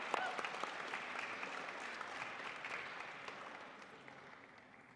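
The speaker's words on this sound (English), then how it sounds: "Let's give a big round of applause to the beautiful women." An audience at a Vaisakhi and Sikh Heritage Month reception applauds presenters, with steady, fairly distant clapping that slowly fades over several seconds.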